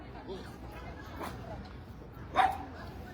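A dog barks once or twice at a distance in a busy park square in Dnipro, under murmuring crowd chatter and the voices of people with children.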